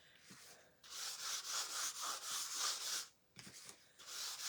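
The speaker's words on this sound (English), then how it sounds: "I'm just going to apply a light coating over where I've chalked." A paper towel rubbing a light coating over a chalked surface, with steady broadband swishing strokes close up, briefly pausing twice between passes, no voices.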